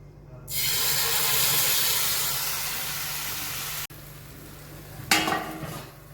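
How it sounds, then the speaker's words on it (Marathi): A loud, steady steam hiss rises abruptly from a hot griddle and holds for several seconds, then cuts off, followed by a brief clatter and renewed hissing. "आता तव्यावर वाफ येते"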